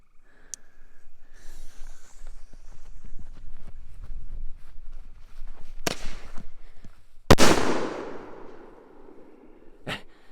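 Red and green consumer firework going off outdoors: a few sharp cracks, then one loud booming burst with a crackling tail, and another pop near the end over low background rumble.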